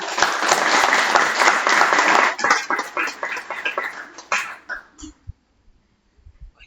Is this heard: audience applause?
yes